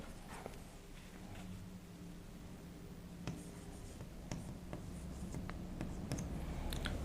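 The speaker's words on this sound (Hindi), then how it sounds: "ये थोड़ा सा साफ करके लिख देता हूं" Someone writes on a board during a maths lesson, making faint, scattered strokes and taps over a quiet room hum. The strokes grow somewhat more frequent toward the end.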